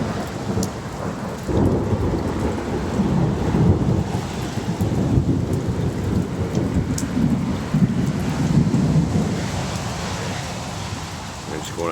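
A South Louisiana thunderstorm brings a heavy, steady downpour with deep rolling thunder rumbling beneath it, the rain hissing close by throughout.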